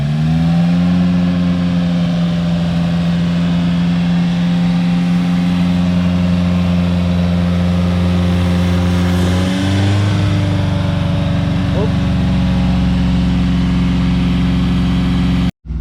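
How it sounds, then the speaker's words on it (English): Perodua Myvi engine held at a steady raised RPM around 2000 while carbon-cleaning foam is sprayed into the intake, a loud continuous drone with a slight pitch rise partway through, no talking. "you got to just keep holding the throttle, just keep revving the car up"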